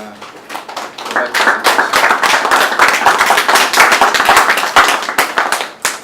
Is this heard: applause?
yes